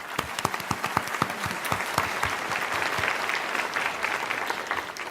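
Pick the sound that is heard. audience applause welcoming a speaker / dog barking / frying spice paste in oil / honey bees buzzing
audience applause welcoming a speaker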